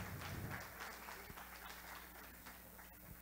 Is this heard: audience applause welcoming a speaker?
yes